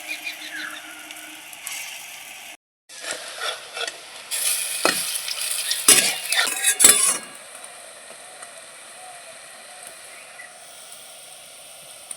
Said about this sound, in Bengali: বাদবাকি বড়াগুলো একইভাবে ভেজে নিচ্ছি আমি